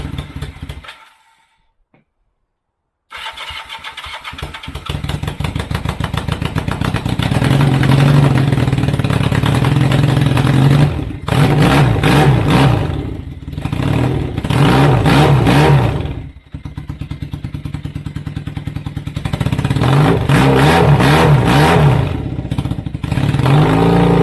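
A Kawasaki KZ440 motorcycle cranks after a short silence and fires up, settling into a close, loud idle broken by several throttle blips and revs that rise and fall.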